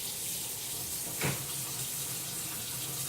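A kitchen tap runs while hands are washed with hot water, giving a soft steady hiss of flowing water with a brief splash as the stream is interrupted, quiet and close.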